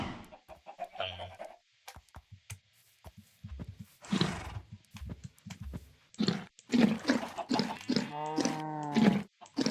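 A horse in a blocky sandbox video game neighs and whinnies with long, wavering tonal calls, mixed with other farm-animal grunts and short clicks, alone and fairly close.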